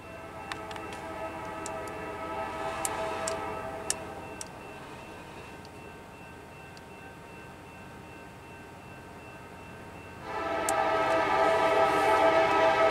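CN freight train hauled by an EMD locomotive rolls past near Hubbard, a steady rumble of railcars with clicking wheel sounds, growing louder near the end as the locomotive's engine note swells close by.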